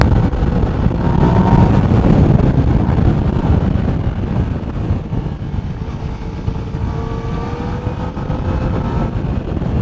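A Yamaha Niken three-wheeled motorcycle runs at speed, its engine a loud, continuous drone blended with heavy wind buffeting on the microphone.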